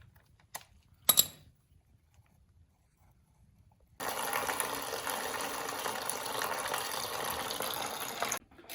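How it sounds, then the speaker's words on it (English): Coolant drains from a 1998 Suzuki RM 250 motorbike, a steady close trickle and gush of liquid running for several seconds after a few small metallic clinks. "now you got to pull this bolt out right here to start draining the coolant out of the bike"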